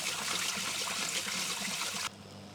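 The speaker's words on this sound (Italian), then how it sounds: "Potete lavarlo anche in questa maniera, con un colino" Tap water runs steadily over farro held in a metal colander, a constant close splashing trickle that cuts off abruptly near the end, with no voices.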